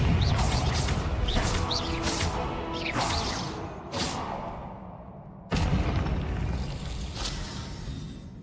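Fiery spell blasts from the Hogwarts Legacy game burst in a series of booming explosions with whooshing tails, several loud impacts spaced a second or so apart over a rumbling combat backdrop.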